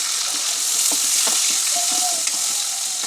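Tomato hits hot oil with browned onion in a pan, giving a steady bright sizzle with soft stirring scrapes, close and continuous, with no talking.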